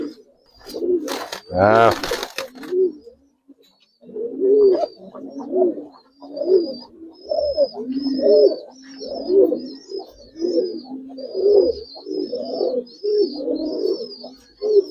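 Giribaz coloring pigeons coo close by in a steady series of rolling, throaty calls, after a short burst of noise and a brief spoken word at the start.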